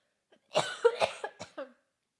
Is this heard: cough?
yes